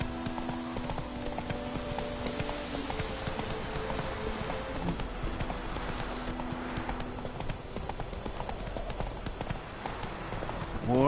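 A horse galloping in the video game The Witcher 3: a steady, rapid clip-clop of hooves running continuously, fairly loud and close, with a faint whinny and little else.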